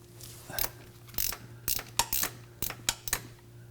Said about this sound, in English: let's flip the ratchet and take this out